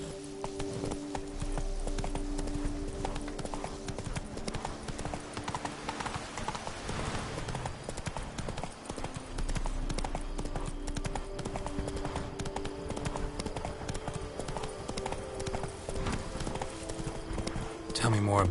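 Horse hooves trot in a steady clip-clop rhythm while riding in The Witcher 3, with game music, ambient tones and a character voice speaking over the hoofbeats.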